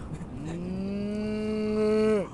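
A person imitates a cow mooing on a fishing trip, giving one long, steady, drawn-out moo close to the listener that holds its pitch before cutting off at the end, with no talk over it.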